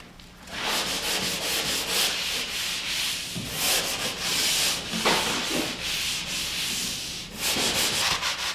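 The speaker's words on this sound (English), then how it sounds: "I use hand sanding tools as I look and feel for any defects" A drywall surface is hand sanded with a sanding screen on a hand sander in long, steady, raspy strokes, close and continuous with brief pauses between passes.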